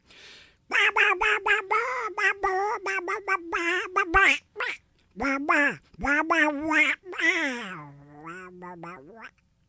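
A man sings a pop melody in a nasal, duck-like quacking voice, imitating a duck throughout, with short choppy phrases and brief pauses, close and loud.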